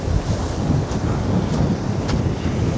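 Strong wind buffets the microphone on the seashore at Pwllheli, north Wales, during extreme weather, a loud continuous roar with gusty low rumble and faint surf underneath.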